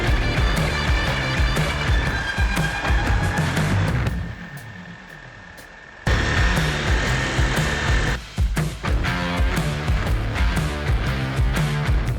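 An angle grinder cuts into steel in a metalworking shop, whining loudly and steadily, then briefly dropping to a lower tone before roaring back at full strength.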